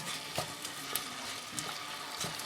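Meat sizzling and frying in hot oil in a pot for bean stew, a steady crackling hiss with occasional sharper pops as it is stirred, close and alone.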